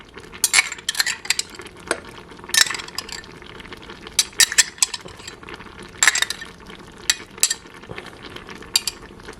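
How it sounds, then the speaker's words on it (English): Spoon scraping grapefruit dragon fruit spread from a jar into black bean soup in a Dash Mini rice cooker: a run of sharp clinks and scrapes in irregular bursts, close and moderately loud, with no talking. "So right now I'm adding the grapefruit dragon fruit spread"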